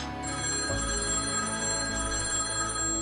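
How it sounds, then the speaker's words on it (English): A telephone bell rings steadily and loudly in a grandmother's apartment, a continuous close metallic trill with no talk over it. "the phone rings"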